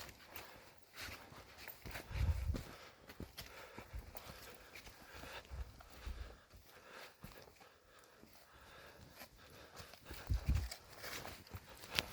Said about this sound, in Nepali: भैँसी आफै चरेर आउँछ जस्तो छ है